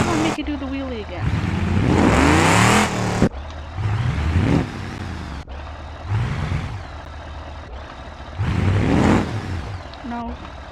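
A car in a video game revving in repeated loud bursts, its engine pitch sweeping up and falling away between pushes while someone talks over it.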